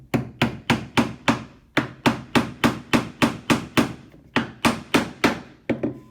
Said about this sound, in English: And then you go and hammer on in.